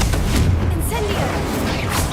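Incendio fire spell cast in Hogwarts Legacy, a loud sustained whooshing burst of flame with booming low rumble lasting throughout, with a voice calling out over it.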